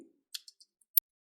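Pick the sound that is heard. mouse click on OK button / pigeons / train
mouse click on OK button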